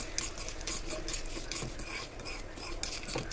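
Dry red chillies stirred in a pan over low flame while making Telugu-style beerakaya tomato pachadi, steady scraping of a spoon against metal with soft frying, close and continuous, no talking.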